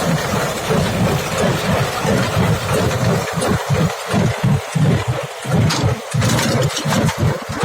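A T-30-69 tractor engine running in first gear, a loud, close, steady mid-pitched diesel rumble with rhythmic chugging pulses throughout.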